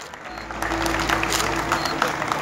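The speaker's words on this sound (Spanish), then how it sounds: "El aplauso para escucharlo, a David Caro, Menucho." Applause from a crowd at a nighttime anniversary ceremony of a coal festival in Las Arrias, a steady, moderately loud wash of clapping with faint voices underneath.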